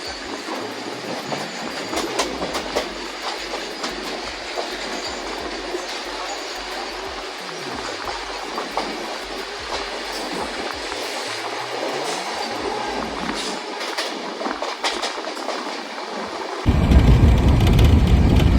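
Steady rumbling roar of the Kota Jan Shatabdi Express running at about 130 km/h near Ballabhgarh station, with continuous rail noise and clatter, growing louder near the end.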